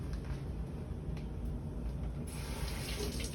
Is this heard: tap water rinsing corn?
yes